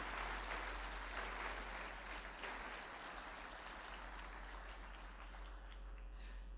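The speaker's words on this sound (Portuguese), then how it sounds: "dá uma salva de palmas ao Senhor" A church congregation gives a round of applause, a continuous wash of clapping heard at moderate distance over a steady low hum, fairly even in level.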